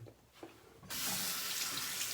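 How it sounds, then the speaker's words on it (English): Warm water runs from a sink tap to rinse a razor blade during a wet shave. After a quiet start it becomes a steady, close rushing splash that holds to the end. "need to get some warm water going"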